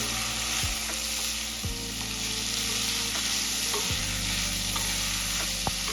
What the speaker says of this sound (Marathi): अशा प्रकारे झिंगे मी ऑइल मध्ये फ्राय करून घेतले